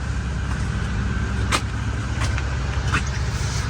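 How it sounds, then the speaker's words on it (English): A small diesel heater at a winter campsite hums with a steady low rumble that runs without a break, close by, with a couple of faint clicks on top and no talking. "So here's a little diesel heater."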